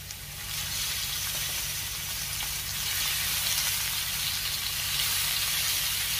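Chicken pieces fry on a hot tawa for dhaba-style tawa chicken fry, making a dense, steady sizzle close by that swells a little midway and keeps going without pause.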